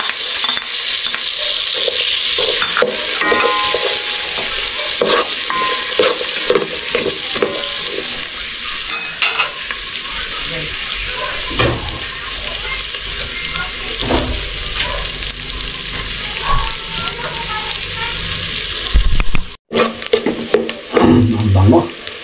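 Garlic, onion and ginger sizzle loudly in a pan while being stirred, with frequent clattering scrapes of a utensil and a splashy, watery edge, ending in a few abrupt knocks.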